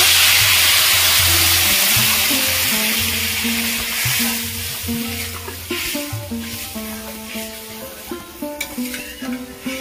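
Water poured onto sautéed mung and masoor dal hisses loudly at first, then the sizzle gradually settles into a softer bubbling with stirring, close up and without speech.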